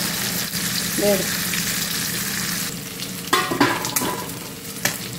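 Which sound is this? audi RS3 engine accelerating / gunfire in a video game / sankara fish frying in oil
sankara fish frying in oil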